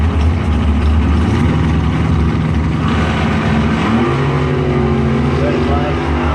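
At a bracket drag race, a 1927 Ford Roadster and a Chevy-powered Roadster roar loudly and continuously, their revs climbing and shifting under an announcer's voice.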